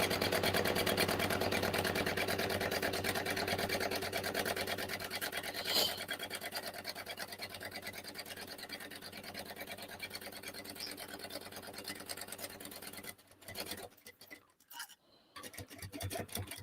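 A sewing machine stitching a side seam of a Vicky May 3 bag, running as a fast steady mechanical whirr for about thirteen seconds, close and even, then stopping into soft handling noises.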